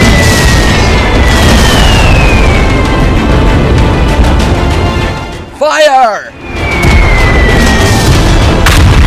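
A cartoon tank's cannon fires with a single heavy boom in the middle, set against a loud, rumbling battle soundscape with whistling tones before and after.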